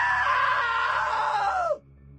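A drawn-out scream from a character in the video game What Remains of Edith Finch, a man who slipped into a table saw; one loud, strained cry that bends downward in pitch and cuts off abruptly.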